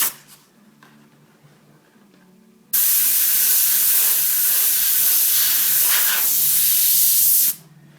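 An airbrush sprays paint to create wood grain, a loud continuous hiss that starts abruptly and runs steadily for about five seconds before cutting off, preceded by quieter low background noise.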